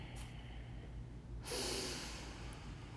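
A long, audible exhale through the nose during a gentle seated yoga twist, close and breathy, swelling midway and fading, with no speech.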